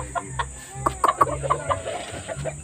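Shamo chickens of mestizo breed kept beside a house cluck in a series of short, close, irregular calls with no voices over them.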